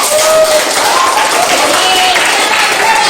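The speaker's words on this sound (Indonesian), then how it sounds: "tepuk tangan untuk" Applause from a classroom or group audience during a field learning session, a short, dense burst of clapping that stays steady and fairly loud for about three seconds, with faint voices mixed in.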